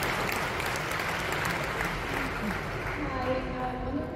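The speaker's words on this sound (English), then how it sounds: "Give yourselves a round of applause" Audience applause at a convention, a steady dense wash of clapping filling the whole stretch at a constant level, with faint voices and some tonal sound surfacing toward the end.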